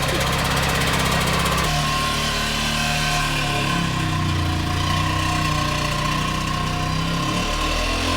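A Trabant's two-stroke car engine runs steadily and loud throughout, a low buzzing drone with a shift in tone partway through and a brief dip near the end.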